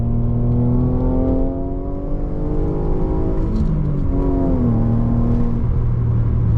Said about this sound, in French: Alors une première petite accélération, sortie de virage en seconde, on sent que le Busso il demande que ça.